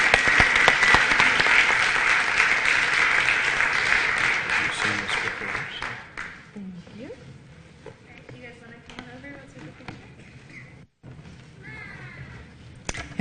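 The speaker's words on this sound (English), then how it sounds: "I'd really like to give a big round of applause to the staff" Big round of applause for staff at a board meeting, dense clapping from a roomful of people for about six seconds before fading to scattered claps, shuffling and quiet murmuring.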